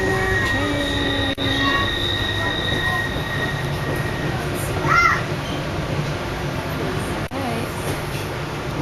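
A train pulls out of Denali with a steady, close rolling rumble and clatter of railcars, broken by a brief high wheel squeal midway and a couple of sharp knocks.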